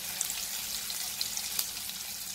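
Stuffed okra (ladyfinger) frying on low heat in a pan, a steady soft sizzle with faint crackles throughout, no talk over it.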